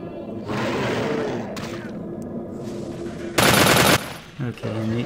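Rapid Uzi bursts in the Vampire: The Masquerade video game, loud and close, with a short intense burst of automatic fire among other game sounds and a voice talking over parts.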